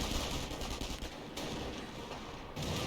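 Rapid sustained gunfire from Volksgrenadier infantry in the real-time strategy game Company of Heroes, dense overlapping bursts crackling continuously at close range with a brief dip mid-way.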